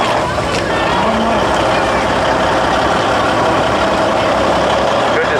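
Older trucks from a local construction company roll past in a rodeo parade in Drummond, their heavy engines rumbling loudly and steadily from close by, with a voice talking over the noise.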